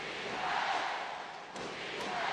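A basketball arena crowd at a FIBA Asia Championship game between Iran and the Philippines keeps up a dense, sustained roar with rhythmic chanting, swelling and dipping slightly throughout.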